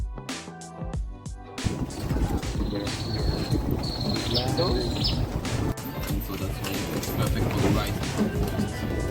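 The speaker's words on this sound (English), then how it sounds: "This is the bee they have on this island." Buzzing insect, a bee, on a tropical fruit farm in the Mekong Delta near Ho Chi Minh City, Vietnam, droning steadily through dense insect and outdoor ambience, with a sharp clatter at the start and people talking nearby.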